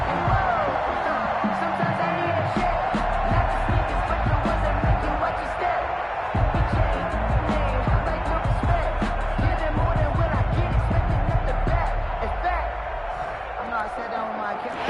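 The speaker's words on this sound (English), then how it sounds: "The crowd getting into it as we come up on a big 3rd down." A video game American football stadium crowd roars steadily ahead of a big third down, a dense continuous wash of cheering and noise with a commentator talking over it throughout.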